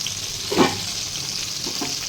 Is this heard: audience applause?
no